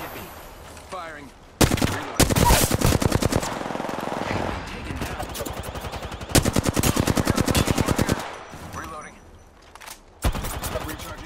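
Automatic gunfire in the video game Warzone, several loud sustained bursts of rapid shots separated by short pauses, with a voice speaking between bursts.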